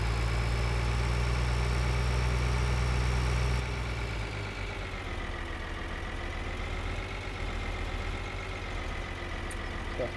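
A tractor engine idling in the video game Farming Simulator 2013, a steady low droning hum with a faint whine on top, slightly louder at first, then settling to a smooth even idle.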